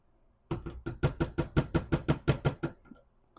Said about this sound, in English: I'm just gonna give this a stir to kind of blend the two batters together